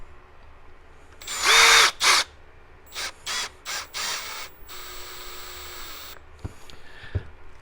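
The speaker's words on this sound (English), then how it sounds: "Try to get not too crazy on the drill." Power drill whirring in several short bursts as it drives a screw into the aluminum steering block of an Arrma Kraton 6S EXB RC truck, loud and close, with a couple of sharp taps near the end.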